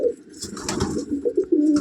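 A Madrasi pigeon coos in low, throaty bursts close by, several murmuring calls in quick succession with no voices.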